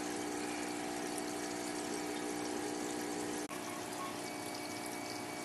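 Air bubbler pump aerating water in a deep-water-culture hydroponic tank, a steady hum with continuous fizzing bubbles, close and unbroken apart from a brief dropout near the end.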